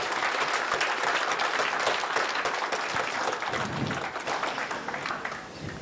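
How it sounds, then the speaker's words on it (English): Audience applause at an International Anti-Corruption Day youth event, a dense sustained wash of clapping from a large crowd that holds steady for several seconds, then thins slightly toward the end. "can we clap"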